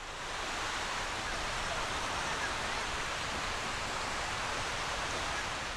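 Sea waves wash along the Byeonsan coast near Gyeokpo Chaeseokgang, a continuous broad hiss of surf that stays steady and fairly loud with no distinct break.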